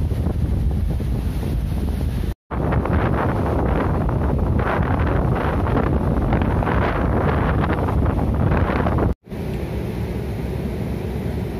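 Typhoon-strength wind blasts across the seashore at Mui Ne, Vietnam, mixed with crashing surf. The roar is loud and continuous, with heavy buffeting on the microphone and two brief dropouts.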